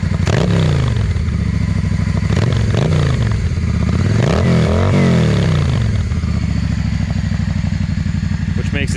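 A 2005 Yamaha V-Star 650 motorcycle engine and exhaust revving up and down in repeated swells, loud and close, with a rough, rumbling idle between revs and some clatter.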